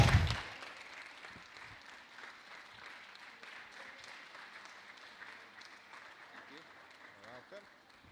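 Applause from a crowd for the second-place finisher at a racing event, a soft, steady patter of clapping that swells at the start and then holds evenly under a speaking voice.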